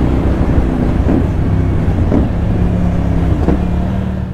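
A CFMOTO 450NK motorcycle engine runs loud and close, its steady drone rising through a few brief revs, with wind buffeting the microphone and no talking.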